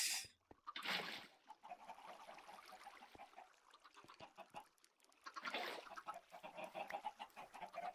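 A crowd of Minecraft chickens clucks softly in overlapping bursts, with a splashy rush at the start and another near the middle, quiet overall and without speech.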